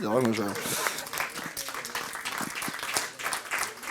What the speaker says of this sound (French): merci, on peut applaudir le jury.